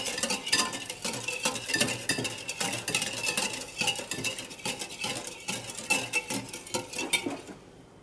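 Egg custard (crème aux oeufs) stirred in a pan, a utensil scraping and clinking against the metal in quick irregular strokes, close and clear, fading out at the end.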